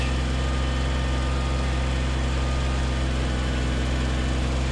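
A Kubota BX25D compact tractor engine runs steadily while plowing snow, a loud, constant droning hum with no breaks and no voices.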